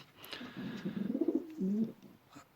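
Andalusian frill stencil pigeons coo softly nearby, a low burbling, rising call followed by a short sustained note, faint and with no voices.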